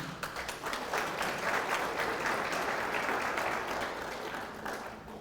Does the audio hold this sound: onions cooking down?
no